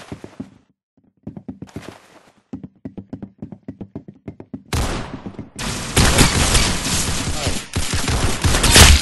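Rapid gunfire in a video game match, starting as sparse clipped shots and building into loud, dense automatic bursts that fill the second half.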